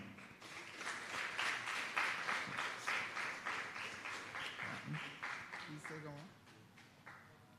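An audience at a youth mayors' forum claps for the youth mayors, a faint, rippling round of applause that swells early and slowly thins, with a voice speaking over it near the end.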